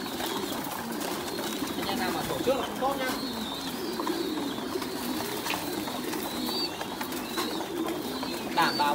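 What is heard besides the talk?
pigeons cooing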